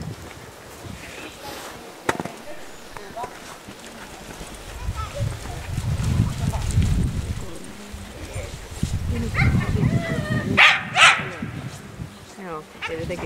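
A young dog gives a few short yips and whimpers outdoors during reindeer herding. The calls are faint and brief under heavy rumbling wind noise, with one clearer cry near the end.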